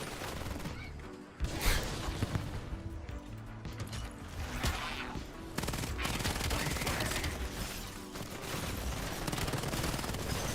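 Rapid bursts of gunfire from a gun in a zombies video game, dense and continuous with sharp impacts and clatter mixed into a busy game soundscape, moderately loud throughout.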